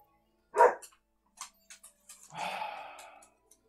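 A dog barks a few times at a distance in a quiet room: one sharper bark, several small yips, then a longer rough bark, each separated by silence.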